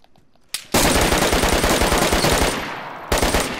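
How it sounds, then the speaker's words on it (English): Rapid automatic gunfire in the DayZ video game, a loud close burst of dense repeating shots lasting a couple of seconds, then a short pause and another burst. "I wasted so much ammo just shooting that guy once"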